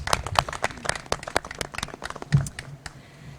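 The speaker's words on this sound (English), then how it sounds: "I do think that deserves a round of applause." Audience at a county government announcement clapping, a sparse, uneven patter of hand claps that thins out and fades toward the end, fairly close.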